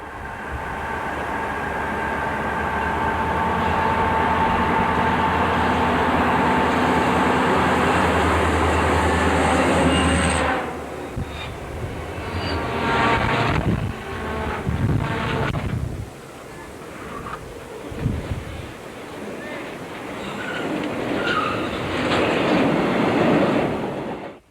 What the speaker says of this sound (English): This northbound hopper train featured two YN2 EMD SD40-2s in the consist.